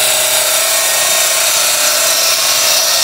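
A wood-turning gouge rides its bevel across spinning wood on a lathe, rounding a section of a jam-chucked piece with a constant loud hiss and whir that holds steady and unbroken, no talking.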